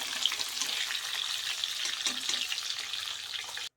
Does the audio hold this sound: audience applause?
no